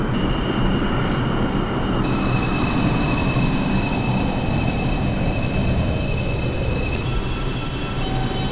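A New York City 2 line subway train in the openbve train simulator game rumbles steadily along the tracks, with a constant roar of wheels and a thin metallic whine above it.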